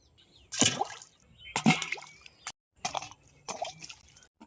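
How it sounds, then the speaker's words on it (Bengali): Raw green mangoes washed in water: three or four short splashing bursts of water and handling, close up, with brief quiet gaps between them. "চলো তার জন্য প্রথমে আমগুলো ধুয়ে নেই"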